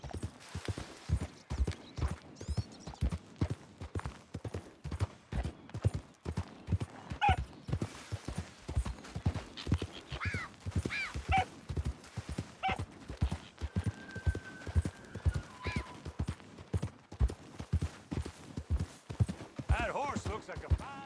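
Horse hooves clip-clopping at a steady walking rhythm in Red Dead Redemption 2, a western video game, running close and continuous throughout with brief higher horse or animal sounds scattered over the top.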